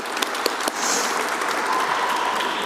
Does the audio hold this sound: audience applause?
yes